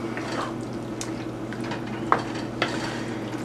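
A spoon stirs canned tomato sauce for lasagna in a pot, giving soft continuous scraping with a couple of light clinks against the metal, close by over a low steady hum.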